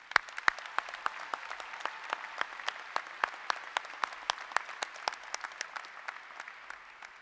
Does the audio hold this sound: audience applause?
yes